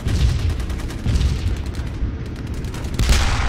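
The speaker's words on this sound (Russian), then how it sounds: "Попадание по нашему танку." Heavy gunfire and booming impacts in the video game Theatre of War 2: Kursk 1943 pound throughout, with a louder burst near the end as a shell strikes a tank's armor.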